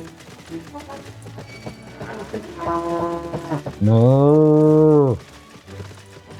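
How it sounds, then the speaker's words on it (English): A billy goat in the Final Fantasy video game bellows with a long, loud, cow-like moo while chasing the player, following a shorter lowing call, with game ambience around it. "I know this sounds like a cow chasing me instead of a billy goat."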